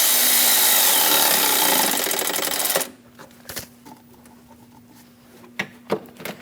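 A power tool rattles rapidly on the bolt of a hose clamp during power steering pump work on a 2003-2025 Chevrolet Express 2500 4.8L V8, buzzing for about three seconds before stopping, followed by a few faint clicks and taps.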